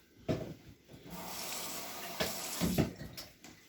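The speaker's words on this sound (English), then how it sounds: "We'll even be fancy and use filtered water out of the water filter" Filtered water runs from a water filter tap while preparing buckets for mushroom growing, a steady hissing flow with a few louder splashing bursts, close and alone.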